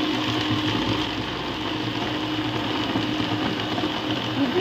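An electric vegetable chopper runs at full power, a steady loud motor whir with a churning cutting texture that holds constant for several seconds.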